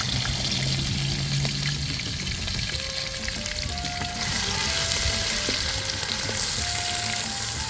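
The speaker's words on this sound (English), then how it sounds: "Add the ground ingredients to the oil, stir and allow it to fry." Ground ingredients frying in vegetable oil in a pan, a loud continuous sizzle with bubbling and crackle, occasional stirring scrapes, no talking.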